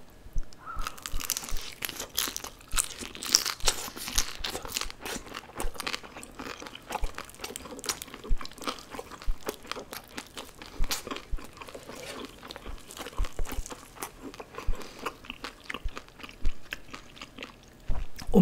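Crunchy fried beef intestines (daechang) are bitten and chewed close to the mic, giving loud, rapid, irregular crackling crunches that continue throughout with no talking.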